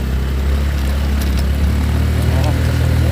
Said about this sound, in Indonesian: Ini pakai motor metiknya